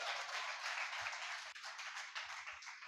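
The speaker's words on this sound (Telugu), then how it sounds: "చప్పట్లు కొట్టండి గట్టిగా" A church congregation clapping hard during a sermon, a dense, sustained patter of many hands at a fairly low, even level, with a few dull low knocks underneath.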